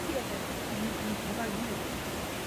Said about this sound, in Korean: 물소리도 아름답고,